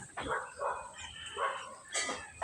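Dogs bark in short separate bursts, about four or five yaps spaced unevenly, fairly faint and close in a quiet outdoor setting after days of rain.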